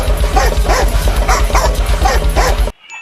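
Several dogs bark and yip in steady, rapid bursts for nearly three seconds, loud and close, before cutting off abruptly.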